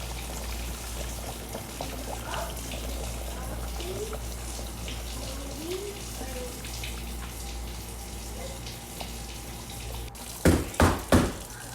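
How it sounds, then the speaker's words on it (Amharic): Boiling water pours into a cooking pot of chicken bukhari after the chicken has been browned, making a steady rushing pour over a low kitchen hum, with three sharp knocks near the end. "አሁን የፈላ ውሃ አስገባለታለሁ።"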